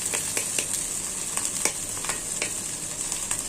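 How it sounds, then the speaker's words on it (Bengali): Black cumin seeds hitting hot oil give a steady, close sizzle, broken by soft clicks and scrapes of stirring. No one speaks. "কালো জিরাটা ধুয়ে নিয়েছি, এখন তেলে দিয়ে দিব।"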